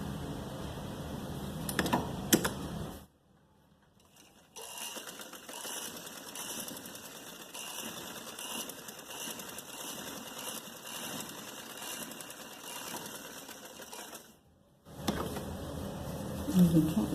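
A sewing machine stitches a belt of salwar fabric, running in steady, long whirring stretches broken by brief pauses, with someone speaking over the start and the end.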